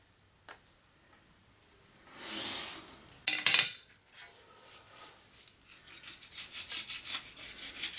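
Engine mating surfaces on an SR20 are scraped and cleaned after oil pan removal, with faint intermittent rasping and rubbing strokes, a couple of louder scrapes and metallic ticks, close and otherwise quiet.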